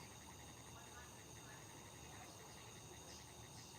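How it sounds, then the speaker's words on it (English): Faint, steady chorus of crickets chirping in the distance, continuous and rhythmic against a quiet outdoor background. "Can you hear the crickets?"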